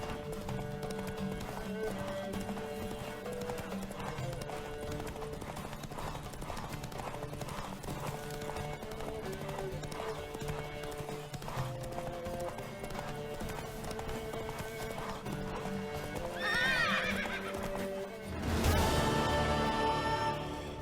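Horse hooves clip-clop at a steady pace throughout this scene from the video game The Witcher 3, with music playing underneath and a louder whinny near the end.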